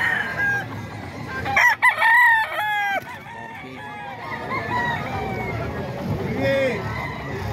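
Sweater-breed gamefowl roosters at a poultry seller's yard in Bocaue crow loudly and close by in several overlapping calls, with hens clucking in between. People talk in the background.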